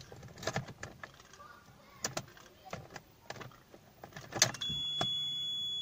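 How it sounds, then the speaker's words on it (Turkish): Keys jangle and click as a key goes into the ignition of a pre-facelift Fiat Egea Sedan Lounge with a 1.6 Multijet diesel and automatic gearbox, a few sharp close metallic taps followed by a steady low electrical hum as the ignition comes on. "Şöyle anahtarı takayım."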